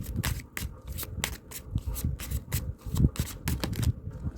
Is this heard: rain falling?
no